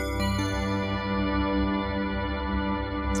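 A Haun Liminal Space 2 reverb pedal lets its tail run away into a dense, sustained harmonic drone that swells with rumbling low end and holds steady at high level, with no talk.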